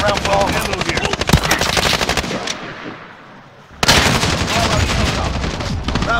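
Rapid machine-gun fire rattles loudly through a video game battle, broken by a brief quieter gap before the heavy bursts resume.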